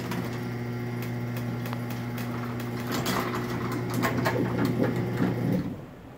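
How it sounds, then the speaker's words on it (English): A Craftsman 139.53985D garage door opener runs on a small door, giving a steady motor hum with rattling chain clicks that grow slightly louder before it stops abruptly, background noise present and nobody talking. "So yeah, that is a very quiet opener."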